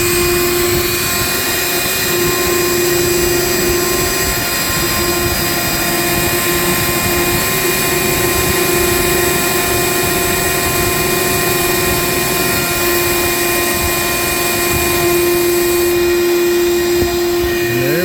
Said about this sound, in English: so I'll turn my vacuum on